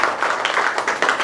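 Steady, close applause from a school audience at a grade 6 debate, many hands clapping in a dense pulsing patter that rises and falls briefly but never stops.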